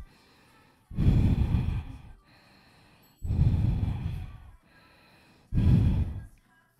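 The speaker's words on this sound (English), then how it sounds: "Take a big deep breath in and out" Three slow, deep breaths during a yoga flow, each a broad airy rush lasting about a second and a half, evenly spaced with quiet gaps between, close and fairly loud with no talking.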